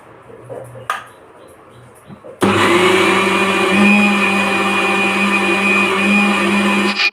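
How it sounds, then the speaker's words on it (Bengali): A mixer grinder grinds lentils with a little water into paste, starting abruptly after a few soft kitchen clatters and then whirring loudly and steadily with a constant high motor whine. "তো আমি এটাকে বেটে নিচ্ছি আর অল্প করে জল দিয়ে বাটছি"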